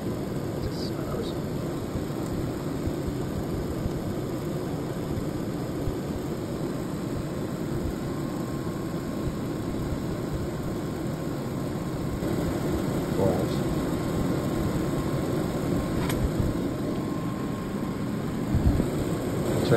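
An 8K air conditioner runs on battery power, giving a steady, even hum and airflow noise that holds level throughout, with faint clicks now and then and a slight swell near the end.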